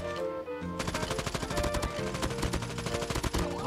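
PDW submachine gun firing in Call of Duty Mobile battle royale, loud continuous rapid automatic bursts that dominate with little pause.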